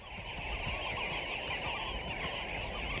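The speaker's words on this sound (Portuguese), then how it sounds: "Seguindo o chamado dos pássaros, eles enfim encontram algum alívio." Sandgrouse calling in the Namib desert, a steady chorus of bird calls that runs through the whole stretch at a loud, constant level over broadband outdoor noise.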